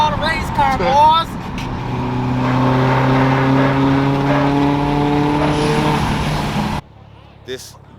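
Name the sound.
Chevrolet Camaro race car engine revving at a car meet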